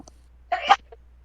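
One short, sharp sneeze bursts out close by after near-silence, followed by a faint brief vocal sound.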